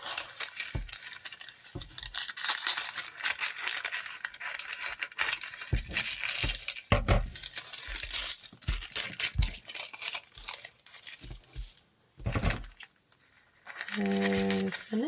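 Scissors cutting recycled paper for an iris folding craft, a series of short crisp snips and paper rustles, close and fairly quiet, with occasional handling noises between cuts.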